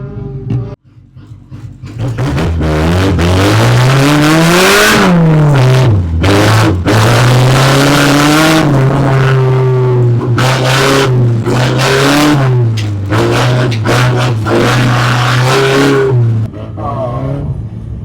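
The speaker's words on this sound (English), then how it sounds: "it's Blake and Blaine driving the blue Civic" Honda EK Civic rally car engine revving hard and loud throughout, pitch rising and falling with throttle changes while crossing a rally course, with voices talking over it.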